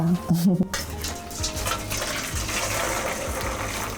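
Boiling water pours over offal in a kitchen for Crimean Tatar sarma, a steady broadband gush lasting several seconds after a brief clink of dishes, close and moderately loud, with a short stretch of voice at the start.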